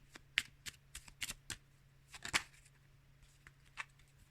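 Tarot cards shuffled by hand during a reading, a string of crisp riffling and slapping bursts close up, irregular and sharp, with no talking.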